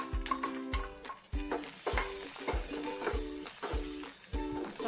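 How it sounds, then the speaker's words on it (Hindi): Onion, garlic cloves and green chillies fry in a pan, a steady sizzle broken by regular metallic scrapes and taps of a spoon stirring in a rhythmic beat, close and clear. "प्याज और 2-4 लहसुन की कलियां। उसमें डालते हैं 2 मेहंदी मिर्ची।"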